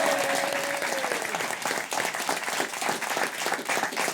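A studio audience on a French TV quiz show breaks into loud, sustained applause for two arriving contestants, dense rapid clapping from a crowd that stays steady for several seconds.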